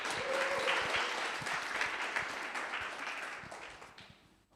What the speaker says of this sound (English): An applause would be in order